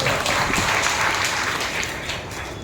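A church congregation applauding during a sermon, steadily and fairly loudly, many hands clapping together in a dense, sustained wash with no voices.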